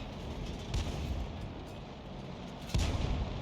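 Tank cannon fire in a video game, two heavy booming shots about two seconds apart over a constant rumbling battle background, moderately loud.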